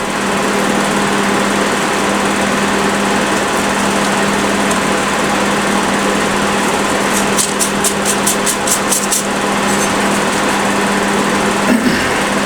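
A Honda EX1000 portable generator runs after a carburetor clean, its small engine droning with a steady high-pitched hum that is slightly uneven at idle; a burst of rapid ticking clicks joins near the middle.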